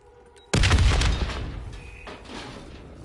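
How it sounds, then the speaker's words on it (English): Explosion in the Black Ops 3 zombies campaign: a sudden loud blast hits at once, then rumbles and crackles with falling debris and slowly fades into lower clatter. "The explosion blocked our path."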